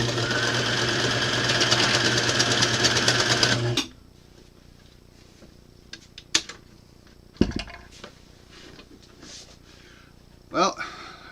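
Sewing machine pushed to overload while stitching fabric scraps, a loud dense whir for about four seconds that cuts off abruptly, followed by scattered clicks and knocks amid quiet.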